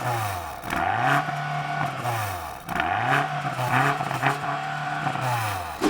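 BMW M car engine revving hard against a 4,500 RPM soft limiter while stationary, two loud rising-and-falling rev cycles that bounce off the limiter, with no talk.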